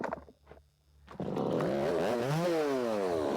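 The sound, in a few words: chainsaw cutting the bottom off a crooked log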